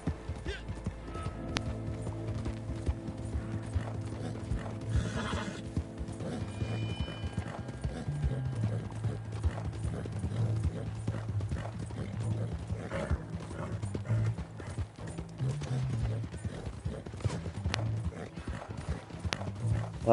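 Horse hooves clip-clop steadily in Red Dead Online, a rhythmic trotting beat with occasional whinnies, mixed with game music and people talking over it.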